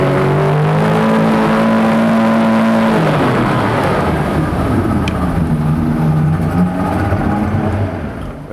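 A 1994 Evinrude 120 outboard motor runs loud and close, revving up from a steady tone into a rough, roaring run that slowly fades toward the end.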